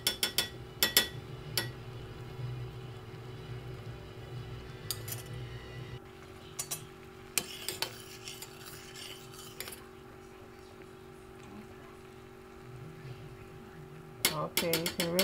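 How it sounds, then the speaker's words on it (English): Homemade castor oil and flaxseed gel being stirred, faint rubbing and occasional metallic clinks of a utensil against the vessel, with sharper knocks at the start and end, under a low background hum. "Now I'm going to keep stirring."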